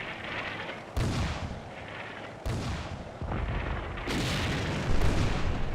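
Artillery barrage in the WWII strategy game Combat Mission: Beyond Overlord at La Fiere: a series of heavy booming impacts, each sharp onset followed by a rumbling tail, the last blast the loudest.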